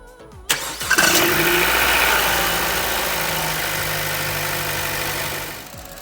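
A 2014 Chevy Cruze engine cranks and fires after a water pump replacement, then settles into a loud, steady idle with a whirring hum that eases slightly over several seconds.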